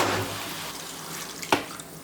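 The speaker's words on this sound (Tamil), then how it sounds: "இப்போ தண்ணி சேர்த்துடலாம்." Water is poured into a pan of pepper country chicken, a soft, steady rushing hiss that tapers off, with a brief clink partway through, quiet and without talk.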